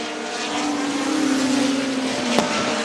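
Race cars in a NEMA midget race thunder down the backstretch, one engine note droning steadily at close range and sliding slowly lower in pitch as the pack passes, with a sharp brief crack near the end.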